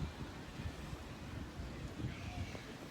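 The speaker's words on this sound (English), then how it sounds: "waves of Lake Pontchartrain." Soft, steady wash of Lake Pontchartrain waves breaking at a beach, faint and continuous under light wind noise.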